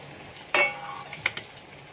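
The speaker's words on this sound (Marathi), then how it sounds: "आता मी आलू वडी सोडते यामध्ये एक एक." Taro leaf rolls (alu vadi) lowered one by one into hot oil on low heat, giving a sudden close sizzle burst that fades, then two brief sharp crackles.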